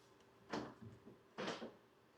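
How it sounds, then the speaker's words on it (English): A door on the air suspension manifold enclosure in a Tesla Model 3 frunk being opened, giving two short thumps with a latch click, about a second apart, close by and alone. "Let me open up the door so I could show you how the manifold looks like."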